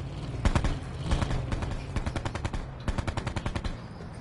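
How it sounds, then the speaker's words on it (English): Automatic gunfire in a PS4 video game rattles out in several rapid bursts, loud and close, with short pauses between volleys and no talking. "He's shooting"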